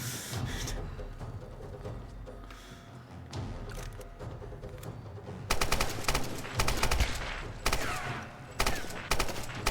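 Automatic gunfire in the video game Tomb Raider (2013), with rapid bursts of shots starting intermittently and then growing denser and louder in the second half, over a busy game background.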